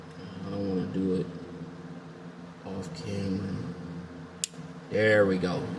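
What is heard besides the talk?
refrigerator relay clicking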